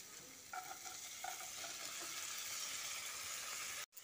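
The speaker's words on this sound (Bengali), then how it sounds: "এবার ছোলার ডালটা মশলার সঙ্গে ভালো করে কষিয়ে নিচ্ছি" Soaked chana dal sautéed with spices in a pan gives a soft, steady frying hiss, with a few light scraping strokes of the spoon near the start and a brief clunk at the end, quiet overall.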